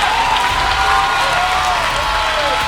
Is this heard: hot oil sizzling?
no